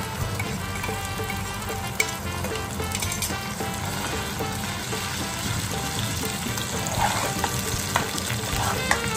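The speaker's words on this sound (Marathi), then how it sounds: "मसाल्याला आता मस्तपैकी शिजू द्या. तेल सुटेपर्यंत." Masala gravy with tomato paste frying in oil, a steady close crackling sizzle with occasional stirring scrapes running continuously throughout, fairly loud and even.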